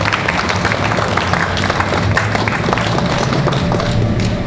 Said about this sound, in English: Let's give a big round of applause to Moss and Christian.